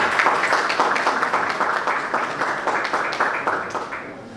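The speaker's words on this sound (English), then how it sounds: "Please, a round of applause as we welcome Professor Folashade Ogunshola" Sustained applause fills a hall at a student leaders' summit as a Vice Chancellor, a professor, is welcomed, dense steady clapping from a large audience throughout, fairly loud and continuous with no voices on top.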